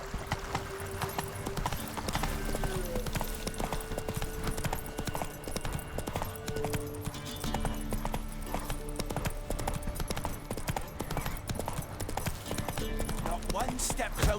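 Horse hooves clip-clop at a steady gallop in the video game Witcher 3, loud and continuous under a layer of game music and ambience, with a brief whinny possible.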